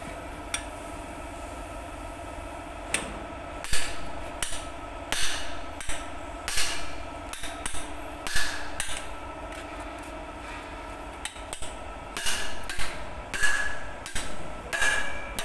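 Repeated hammer blows ring on an engine camshaft during removal, in an uneven rhythm, some single and some in quick bursts, loud and close over a low mechanical hum.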